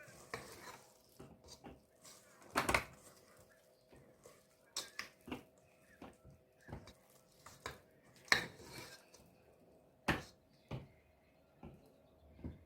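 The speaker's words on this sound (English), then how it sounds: "I'm just gonna add in my raisins. And then I'm just gonna mix those in." Raisins mixed into cake batter for hot cross buns in a bowl, with soft irregular scraping and tapping of a spoon against the bowl, quiet and close.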